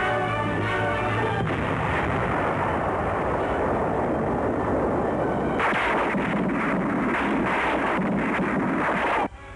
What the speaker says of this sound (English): Cautiously advancing on the firmly dug-in enemy, Yanks plant a heavy charge of dynamite